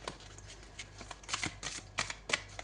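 Tarot cards are shuffled close by in a series of crisp, riffling bursts, quiet overall, with sharper flurries toward the end and no voices.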